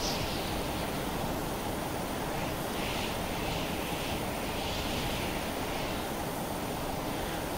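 An aircraft engine in the video game Stormworks, a steady broad roar with a soft whooshing rise and fall, loud and continuous throughout with no talking.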